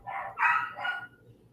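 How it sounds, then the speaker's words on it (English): Several dogs bark in quick succession, a puppy and an older dog loud and close, three sharp overlapping barks indoors. "The dogs are going crazy."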